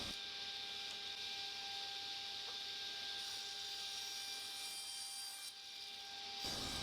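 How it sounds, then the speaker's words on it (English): A saw cuts oversized plywood pieces for a jewelry box, a steady, rasping cut that carries evenly for several seconds before stopping, heard close with no talk. "just cutting the ply now oversized"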